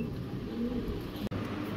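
Green-necked pigeons in a bird market coo softly in low, rolling murmurs, close by, amid faint background noise and no talk.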